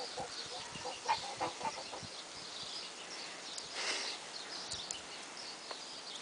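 Soft clucking from hens, several short scattered calls at a little distance, with faint farmyard background and no talking.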